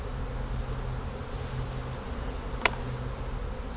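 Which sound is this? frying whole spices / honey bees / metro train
honey bees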